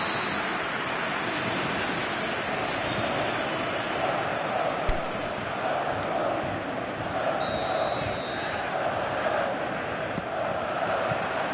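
Stadium crowd in a PS4 football video game match keeps up a loud, continuous roar, a dense wash of cheering voices with no breaks.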